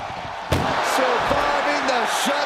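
An ambulance door slams shut during a WWE Night of Champions ambulance match in an arena, a single sharp bang rising out of a crowd roar and a commentator's voice.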